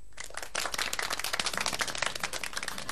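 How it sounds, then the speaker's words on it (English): An audience breaks into brisk applause for a guest, many hands clapping at close range in a dense, steady patter for a few seconds with no talking. "Let's give a big round of applause and welcome to Mr."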